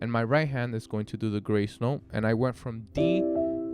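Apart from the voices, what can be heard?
No everyday noise stands out behind the speech.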